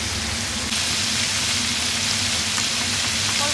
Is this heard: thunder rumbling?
no